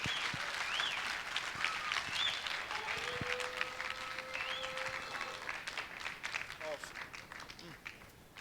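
Faint, steady applause from an audience at a church youth conference fills the hall, a soft continuous patter of clapping with some background voices.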